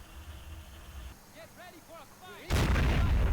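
A tank firing its gun in the war game Men of War Assault Squad 2, a single loud booming blast bursting in after a stretch of quieter battle noise with someone speaking.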